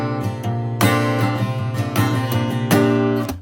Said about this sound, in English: if you don't mute those middle strings, then it sounds like this